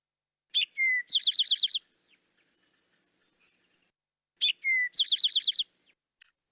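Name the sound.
Eastern towhee song played from a recording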